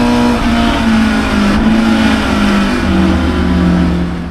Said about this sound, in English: Here it is, a pair of Alpha GT